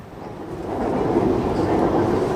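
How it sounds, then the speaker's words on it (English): Bangkok's elevated Sky Train rolls past nearby, a rising rumble of rail noise that swells and holds steady for a couple of seconds. "The Sky Train."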